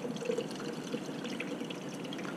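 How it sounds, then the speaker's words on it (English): Cooling water running through a laboratory rotary evaporator, a faint, steady trickling and gurgling flow with small drips, quiet and continuous. "And then we're going to turn on the cooling water."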